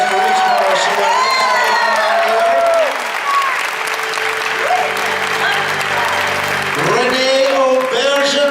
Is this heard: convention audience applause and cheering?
yes